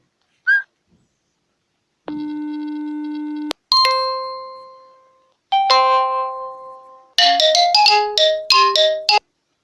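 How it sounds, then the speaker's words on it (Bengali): A series of electronic imo app phone ringtones play one after another: a steady buzzy tone, bright chiming melodies, then a rapid run of plinking notes, clear and close. "এগুলো রিংটোন আমরা শুনতে পাই"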